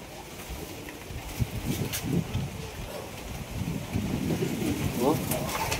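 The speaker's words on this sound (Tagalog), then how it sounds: "Grabe, lakas ng hangin." Strong typhoon wind roars in low, uneven gusts against the microphone while people talk nearby.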